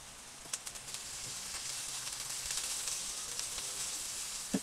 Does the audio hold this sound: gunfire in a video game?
no